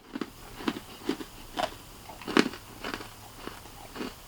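Someone repeatedly bites and chews a Heath toffee candy bar up close, giving about nine sharp crunchy snaps at a steady rhythm, with no talking.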